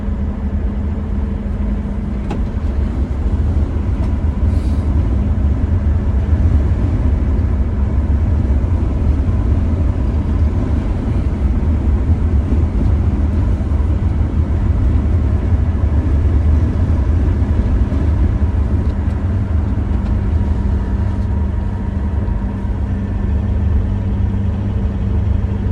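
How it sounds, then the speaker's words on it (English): Ex-mine Toyota Land Cruiser on the move, a steady low engine drone and intake rumble filling the cabin throughout, close and continuous with no talking. "I do like the intake noise coming through the air intake here."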